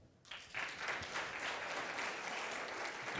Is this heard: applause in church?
yes